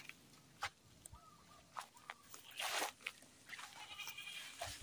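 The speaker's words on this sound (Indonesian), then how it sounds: "sebelum kita sampai rumah, ada beberapa kambing. Ada kambingnya." Goats bleat near a home in a teak forest, several faint, scattered calls spread across a quiet outdoor background with occasional rustling.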